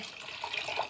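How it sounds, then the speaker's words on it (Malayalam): A faint, brief trickle of water poured from a vessel into a cooking pot for a chicken and ash gourd curry, a soft splashing rush lasting about a second. "ഒരു പാത്രം വെള്ളമാണ്"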